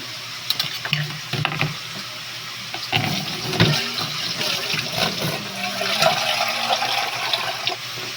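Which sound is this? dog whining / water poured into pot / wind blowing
water poured into pot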